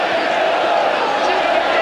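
Manchester United away supporters chant and roar in a sold-out stadium crowd at Norwich, a dense, steady wall of voices filling the short moment.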